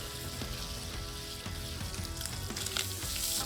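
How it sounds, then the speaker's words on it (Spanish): Bacon frying in a pot with a generous splash of extra virgin olive oil, a steady dense sizzle with crackling pops throughout, close and continuous with no talking. "Pon una olla a calentar, le echas un buen chorro de aceite de oliva virgen extra, ponle el bacon,"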